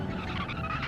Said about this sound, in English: the rubber tyres on a Lego car would definitely squeak this much